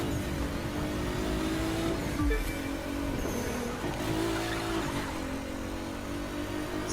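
A 2018 Nissan GT-R races in The Crew 2 video game, its engine droning and revving steadily with a brief tire squeal partway through, sustained and fairly close without talk.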